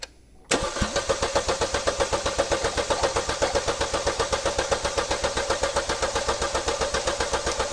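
A Chevy Cruze engine cranks over on the starter during a turbocharger replacement, a rapid rhythmic chugging that starts abruptly after a moment of quiet and continues steadily, close and fairly loud.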